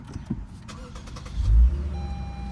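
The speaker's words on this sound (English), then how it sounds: "As the V6 comes to life" A 2024 Lexus IS300 V6 engine starts: a starter whir, then a loud low surge as the engine catches, settling into a steady idle hum.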